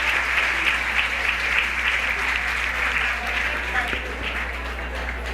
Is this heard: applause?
yes